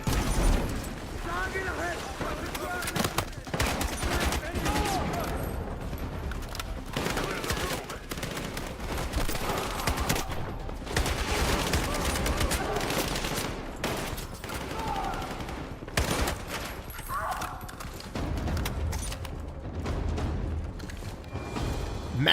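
Dense video-game gunfire in Battlefield, with repeated bursts of automatic weapons and booming shots rolling almost continuously, while voices shout over the combat.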